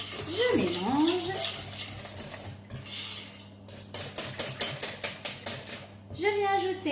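A spatula stirs a crustless quiche mixture in a bowl, scraping at first and then a run of rhythmic tapping strokes against the bowl, close and fairly quiet.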